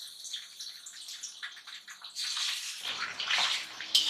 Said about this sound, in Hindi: हम जो है डालेंगे इसमें कढ़ाई में गरम ऑयल में डालेंगे, और इसे हल्का सा फ्राई करेंगे